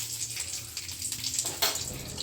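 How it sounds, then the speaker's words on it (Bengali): Nigella seeds and slit green chillies sizzle in hot oil, a steady crackling hiss with some bubbling, close and fairly quiet, with no talk. "এবার এই গরম তেলের মধ্যে দিয়ে দিচ্ছি কালো জিরে"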